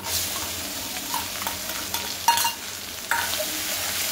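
Malvani masala and a ground paste are stir-fried in a pan, giving a continuous hissing sizzle with a few sharper scraping strokes of the spatula.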